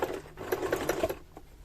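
A sewing machine stitches fabric for a child's mouse-shaped bag in a quick, steady run of needle strokes lasting about a second, close and moderately loud, then slows to a stop.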